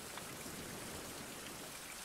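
Steady rainfall in the survival video game Fountain of Youth, a soft, even hiss of drops on surfaces with no talk, faint and unchanging across the short stretch.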